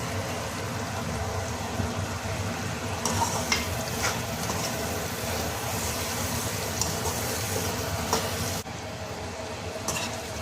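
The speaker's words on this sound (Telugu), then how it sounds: "బాగా ఉడుకుతుంది కదా మన నిమ్మరసం అంతా దీంట్లో ఆవిరైపోయింది" Mutton pickle bubbling with lime juice in a pan, a steady, close sizzling and simmering with occasional stirring scrapes, continuous throughout and dropping slightly in level near the end.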